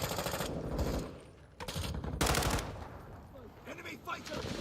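Rapid automatic gunfire in the Call of Duty: Modern Warfare 3 video game, bursts of rattling shots with brief pauses between them, at moderate level, with game voices and effects mixed in.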